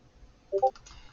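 A pair of quick computer mouse clicks, close and crisp, alone against faint background hiss.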